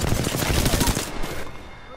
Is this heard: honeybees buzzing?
no